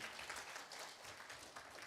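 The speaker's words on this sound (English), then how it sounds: "A resounding applause for Anne-Marie and to all of you" Steady applause from an audience at a finance stakeholder engagement conference, a continuous wash of many hands clapping that holds at a fairly even level for a couple of seconds.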